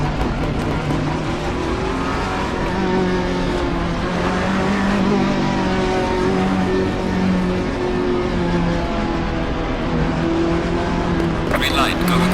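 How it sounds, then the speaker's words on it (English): A race car in Assetto Corsa Competizione idles and burbles at low speed in first gear, its exhaust popping and crackling as the throttle is lightly blipped, a continuous loud engine drone with someone talking over it. "Sounds awesome at low speed, just tickling the throttle in first. Those pops and crackles from the exhaust"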